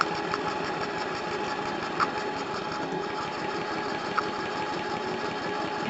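A BR2032 compound model steam engine runs steadily, a fast, even mechanical chuffing rhythm at low level with a couple of faint clicks, no voices.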